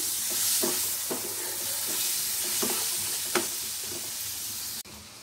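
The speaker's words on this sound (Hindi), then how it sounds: "अब हम इसमें मिलाएंगे टोमेटोज जो हमने चॉप किया था और इसे फिर से सर्व करना है" Chopped tomatoes go into a frying pan for aloo methi sabzi and get stirred, a loud steady sizzle with repeated scraping strokes of the spoon, ending abruptly.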